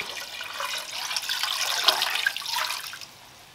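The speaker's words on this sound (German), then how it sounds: "und gieße etwa 2 Liter Wasser auf" About two liters of water pour into a large pot holding pork hock for a jellied aspic, a steady splashing stream lasting around three seconds before it stops, close and with no talking.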